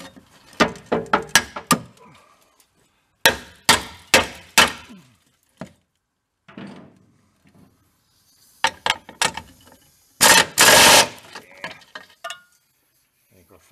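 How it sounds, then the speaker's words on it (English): A hammer strikes a rusty engine part in clustered bursts of sharp metallic blows, loud and close, with brief gaps between the groups. "Hit it with a bigger hammer."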